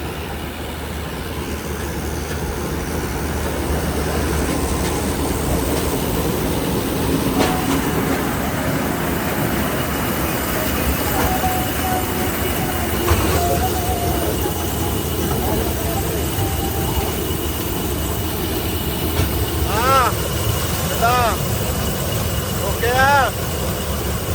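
A combine harvester engine drones low and steady throughout with a rattling mechanical texture while harvesting maize, and a voice talks over it.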